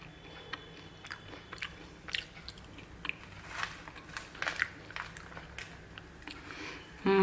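Crispy homemade French fries, crisp outside and soft inside, bitten and chewed up close: a run of sharp crunches and softer chewing spread irregularly over several seconds in a quiet room.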